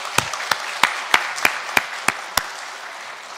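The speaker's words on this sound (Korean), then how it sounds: "우리 따뜻한 박수로 환영하도록 하겠습니다" Sharp, evenly spaced claps ring out in a church service welcome, eight distinct strikes in a slow steady rhythm before fading into room quiet.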